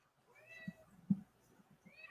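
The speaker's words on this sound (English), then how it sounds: "I just heard a cat." A cat meows a few times in short, soft calls, one a bit louder than the others, quiet and fairly close with no talking.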